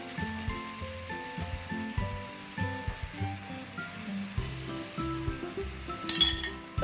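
Chicken crispy stir-fries in a pan with dark soy sauce and tomato ketchup, giving a soft steady sizzle with frequent utensil clinks and scraping knocks against the pan.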